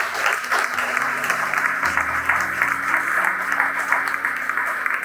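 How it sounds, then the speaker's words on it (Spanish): Congregation in a church applauding together, a sustained, even roar of clapping with a low sustained tone and faint voices beneath it. "Para un aplauso al Espíritu Santo"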